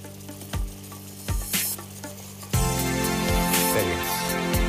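Pasta cooking water is poured into a pan of salmon sauce, setting off loud, steady sizzling and bubbling that jumps up sharply partway through, with occasional utensil clatter and no speech.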